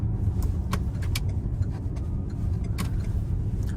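A used Renault Samsung SM5 Platinum sedan drives along with a steady low road and engine rumble, while light rattles and taps from the car's interior come through during the ride, with no one speaking.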